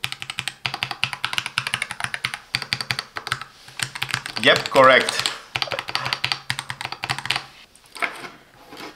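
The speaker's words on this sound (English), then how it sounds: "The keyboard plate is stabilized with layers of silicone and poron, creating a dampening layer to enhance both acoustic and typing feel." Plastic MelGeek MojoPad mechanical numpad with Pattern Pro switches and a silicone and Poron dampened plate, typed in quick close clacky bursts, with a voice speaking briefly midway.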